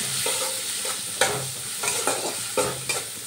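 Spice masala with Kashmiri chilli powder and turmeric being stir-fried in a pan: a constant sizzle broken by repeated scraping strokes of a spatula, close and moderately loud, with no voices.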